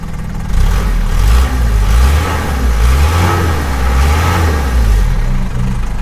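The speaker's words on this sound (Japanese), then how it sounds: "排気自体はねすごいね静かな排気音なんですね" A 1979 Nissan Gloria 220D diesel engine idles nearby with a low, steady, quiet exhaust burble, pulsing gently in a smooth rhythm, fairly loud and without talk.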